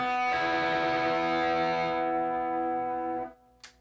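A distorted electric guitar chord from a song rings out loud and sustained for about three seconds, then cuts off, followed by a brief faint scrape.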